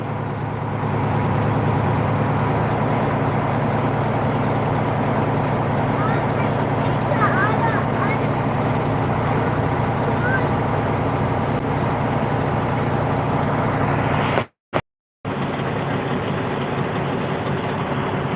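Engine idling at a steady low rumble with a constant drone throughout, briefly cutting out near the end before resuming.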